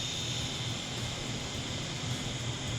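A Syma S111G 3.5-channel infrared RC helicopter hovers nearby, its small rotor and motor producing a steady, even whine and whoosh that holds constant throughout.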